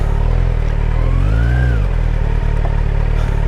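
A motorcycle engine runs loudly and close throughout a closed-circuit riding exam, with a steady low rumble and a brief rising then falling pitch sweep mid-clip, as during hard emergency braking.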